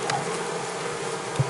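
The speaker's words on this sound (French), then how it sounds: "je vais vous refaire voir les abeilles qui sont à l'intérieur" Bees rescued into a bee-rescue vacuum buzz continuously inside the container, a close, steady droning hum with one brief louder knock near the end.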